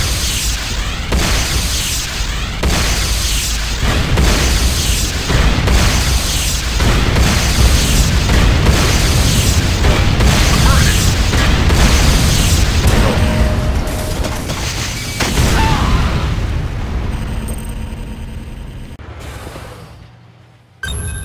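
Repeated heavy booms from a Nod harvester under attack in the Renegade multiplayer game, evenly spaced explosions over a constant roaring rumble, loud and close, tapering toward the end.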